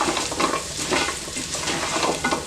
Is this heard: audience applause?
no